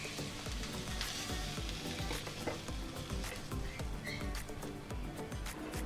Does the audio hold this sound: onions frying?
yes